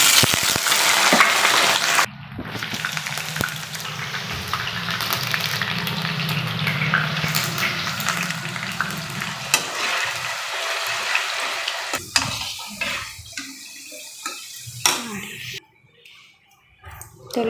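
Potatoes fry in hot oil with a steady sizzling hiss and occasional stirring clatter, loud at first and thinning out toward the end, as a person talks over it.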